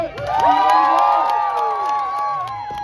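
A crowd cheers and whoops loudly for a throw at a Canada Day celebration game, voices rising in excited shouts that swell and hold for about three seconds, with children's yells mixed in.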